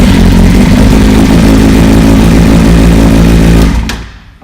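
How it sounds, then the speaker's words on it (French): A running motorcycle engine, with a GIpro X-type gear indicator fitted, holds a loud, steady, close idle with a deep rumble for about three and a half seconds, then cuts off and fades to quiet. "il suffit de démarrer la moto"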